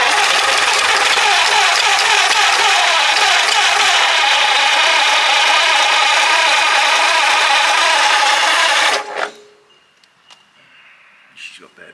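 An abandoned Ford Flathead V8, sitting for over 30 years, runs loud and rough with its revs opened up on the carburettor, a dense steady roar that cuts off abruptly near the end, followed by quiet knocks.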